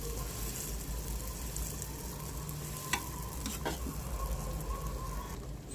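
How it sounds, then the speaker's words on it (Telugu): Food fries in a pan until crispy, giving a steady close-up sizzle and crackle throughout, with a few sharp clicks from a utensil and no talking. "ఇటు సైడ్ క్రిస్పీగా అయ్యేంత వరకు ఫ్రై చేసేసుకోండి."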